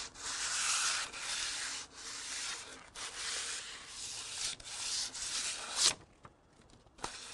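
Fine general purpose sandpaper rubs by hand over patio furniture in close, rhythmic back-and-forth strokes, each pass a dry rasping hiss separated by brief pauses, ending with a few lighter scrapes.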